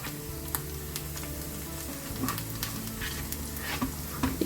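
Finely chopped onion frying in a pan for red borscht, a soft steady sizzle with light stirring taps and scrapes, close but fairly quiet.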